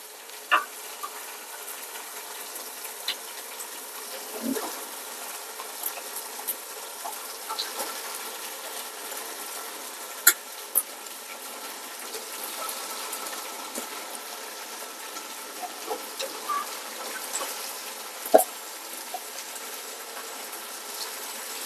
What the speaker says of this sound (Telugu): టమాటా వేసాం కదా, బాగా మగ్గిపోయింది. కాబట్టి నెక్స్ట్ ఐటమ్ చికెన్ వేస్తున్నాను.